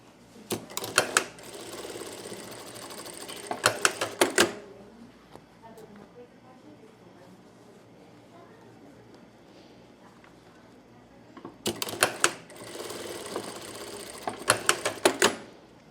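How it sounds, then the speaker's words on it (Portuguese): A sewing machine stitches a milk carton closed in two loud bursts of rapid mechanical clattering, separated by a quieter stretch of faint handling and soft talk. "agora eu vou passar a minha costura aqui para fechar essa caixinha de leite"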